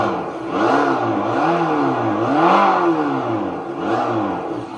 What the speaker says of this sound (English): So let's give it a little rev, and you can hear with the hall pickup sensor.